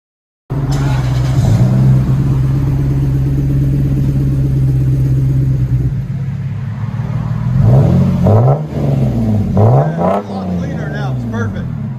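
An aftermarket exhaust on a 1998-2005 Lexus GS 300 3.0L inline-six rumbles at idle, then is revved several times in quick loud bursts close by.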